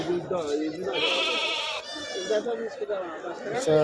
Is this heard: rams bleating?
yes